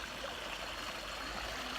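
Shallow stream of water flowing steadily, a soft continuous trickle and wash with no other sounds.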